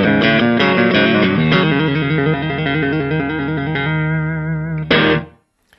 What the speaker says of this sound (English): the clean channel of most Fender valve amps will do a good job. This is a Fender Blues Deluxe.